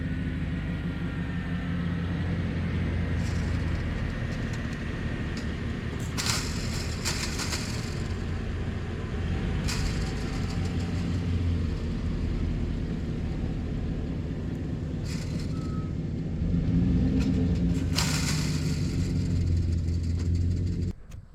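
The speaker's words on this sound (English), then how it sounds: "So let's drive this half ton across and shut the gate" Half-ton pickup truck driving across a field, a steady close engine rumble throughout with occasional rattles and clunks, swelling slightly louder near the end, no talking.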